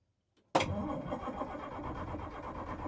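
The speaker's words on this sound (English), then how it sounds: "I was told that this thing had a brand new motor before it was parked, and it sure sounds like it" A 1981 International truck engine fires abruptly after a moment of quiet, then keeps running at a steady, rough idle close by.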